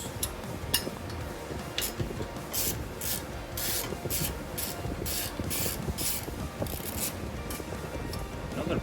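Steady ratcheting and rubbing of a 3/16 Allen key working tight bolts on a Honda Navi motorcycle heat shield, with repeated bursts of metallic clicking against a rough scraping background, close up and moderately loud.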